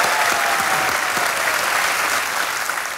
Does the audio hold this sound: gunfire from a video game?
no